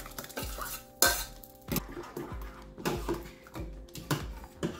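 Mixed lentil dal goes into a cooking pot with repeated scraping and clinking of a utensil against the pot, a soft sizzle underneath, close and moderately loud.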